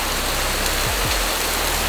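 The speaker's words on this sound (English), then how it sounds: "Look at the rain!" Heavy monsoon rain on Koh Phi Phi, Thailand, pours down in a dense, steady hiss, close and constant with no breaks and no voices.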